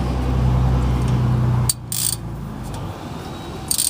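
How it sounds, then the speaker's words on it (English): A socket ratchet working loose the front passenger-side fill bolt on the rear differential of a 2005 GMC Yukon, heard as a low mechanical hum that cuts off into a few short metallic clicks, close up and without talk. "On the front passenger side of the differential, you'll see this fill bolt. Just stick your 3-inch socket in like that."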